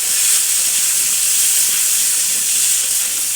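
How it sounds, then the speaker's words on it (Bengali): Jackfruit seeds and fish pieces frying in hot oil give a loud, continuous bright hiss that stays even and close throughout, with no pauses and no voices. "তেলের উপরে কাঁঠালের বিচি আর এই জনের মতন ভেটকানি ভেটকানি জিনিসগুলা দিয়ে দিল।"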